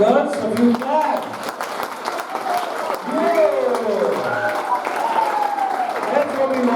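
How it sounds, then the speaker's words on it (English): Scattered audience clapping at a junior cricket club's annual award presentation night, modest applause running under someone talking over a microphone throughout. "Come on, boys and girls, a few claps."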